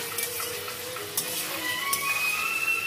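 Mutton pieces fry with already-fried onions in a pan, giving a steady close sizzle with occasional stirring clicks and scrapes.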